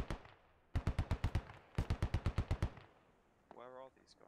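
Automatic gunfire in the video game Squad comes in two rapid bursts of about seven sharp shots each, loud and evenly spaced, followed by a brief radio-like voice.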